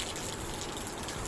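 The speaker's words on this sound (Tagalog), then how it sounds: "O ayan, lumalakas na naman ang ulan." Heavy rain pours in a dense, steady wash of noise, a brief faint burst with no voices.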